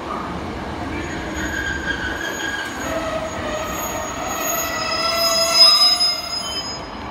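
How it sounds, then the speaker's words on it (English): A Class 150 Sprinter diesel train passes through Newton Abbot station with a steady rumble and high, drawn-out wheel squeals that rise and build toward the end, heard up close with no one speaking. "This will be the free coach 150 sprinter."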